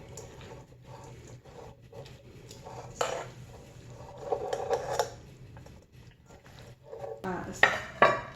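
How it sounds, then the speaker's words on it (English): A spoon stirs chicken bacon spaghetti in a metal pot, making steady scraping and clinking against the pot's sides and bottom, with a few louder knocks and clatters near the end, close by and moderately loud. "Let's give it all a good stir."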